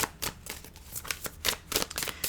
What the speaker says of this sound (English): I'm going to shuffle the cards a few times and see if any cards jump out.